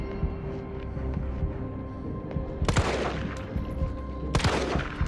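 Gunshots in Resident Evil 3, two sharp loud bursts of fire standing out over a steady game hum and music, with no talk.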